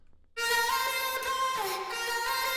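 Distorted, saturated vocal chop from an electronic music production, processed with Camel Crusher and distortion and heard without a Gross Beat effect; a sustained harmonic-rich tone enters after a short silence and shifts pitch partway through, loud and alone.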